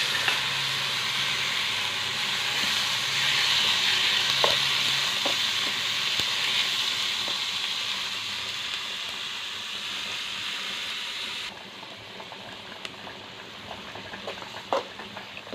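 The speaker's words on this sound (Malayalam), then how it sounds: "ഇനി ബാക്കി വന്ന കടലയും കൂടി ഇട്ട് മിക്സ് ചെയ്യാം" Onions, spices and chickpeas sautéing in a pan, a continuous close sizzle with occasional stirring clicks; the frying hiss drops noticeably near the end, no voices.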